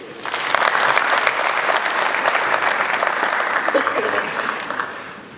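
Audience applause at a business presentation in an ICT facility, a dense burst of clapping that rises quickly and holds steady for several seconds before tapering slightly, loud and close.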